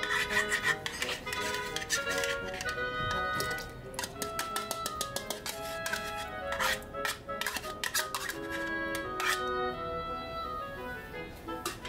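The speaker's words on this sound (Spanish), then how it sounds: "Ahora mezclamos muy bien. Te recomiendo usar una palita de madera para no rayar tu olla." A wooden spatula stirs a yogurt mixture inside a Ninja Foodi multicooker pot, making repeated close scraping and rubbing strokes with a few sharper clicks against the pot, quick and uneven, with no voices.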